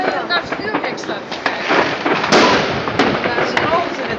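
New Year's Eve fireworks in Nijmegen crackle and pop continuously, with repeated sharp bursts and fizzing bangs overlapping at a distance while people talk nearby.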